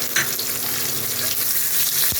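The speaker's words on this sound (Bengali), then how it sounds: "পেঁয়াজটা একটু লাল লাল করে ভেজে নেব" A bowl of chopped onions frying in a pan makes a loud, dense sizzle close by, broken by a few stirring scrapes, with no one speaking.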